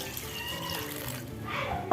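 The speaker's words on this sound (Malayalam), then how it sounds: "ചക്കക്കുരു കഴുകി കുക്കറിൽ ഇട്ട് കൊടുത്ത് നമുക്ക് ഒരു കപ്പ് വെള്ളം ഒഴിച്ച് കൊടുക്കണം" Water pours steadily into a pressure cooker holding washed jackfruit seeds in a home kitchen, a continuous close splashing stream that swells toward the end with a brief brighter splash.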